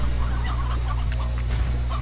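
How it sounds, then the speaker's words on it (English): Chickens cluck in the Slime Rancher video game, soft scattered clucks over a loud steady low hum of game ambience. "I guess I kind of have to get rid of these chickens for now"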